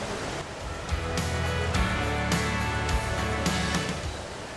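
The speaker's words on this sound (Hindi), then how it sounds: "यहीं पर ही है दुनिया का सबसे बड़ा इंडोर वाटरफॉल" Roaring wash of falling water from the world's largest indoor waterfall at Jewel, Changi Airport in Singapore, a steady broadband rush with low rumble and faint crowd ambience throughout.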